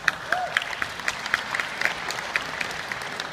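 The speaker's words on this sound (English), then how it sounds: "round of applause to everybody who came out and supported the event" Clapping and cheering from an audience at the ETERNiDAY ending ceremony at the Queens Museum, a dense sustained round of applause with sharper claps standing out near the front.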